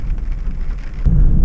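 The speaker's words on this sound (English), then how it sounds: "thunderstorms rolled in. We had lightning right next to our campsite." Thunder from a thunderstorm rumbles near a desert campsite, a brief deep low roll that swells louder toward the end.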